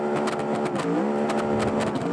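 A car engine in BeamNG.drive hums and revs with a steady tonal drone that rises and dips, plus brief gritty bursts, loud and close with no talk.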